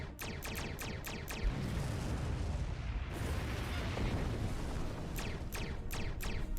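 A target ship blows up in a space strategy game, rolling booms and a long rumbling explosion under clicking interface sounds.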